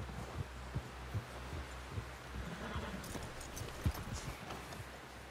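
Horse hooves thud in a steady clip-clop rhythm in the video game Red Dead Redemption, soft and muffled over a low background hum.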